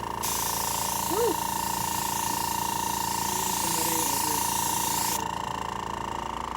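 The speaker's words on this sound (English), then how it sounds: "I can't hear you over the compressor." An airbrush air compressor runs steadily as a loud continuous hiss and hum for about five seconds before cutting off, with a voice briefly heard over it.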